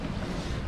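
Strong wind in the Bahamas, a steady broadband roar buffeting the microphone with low rumbling gusts, continuous and loud throughout the short moment, with no voices.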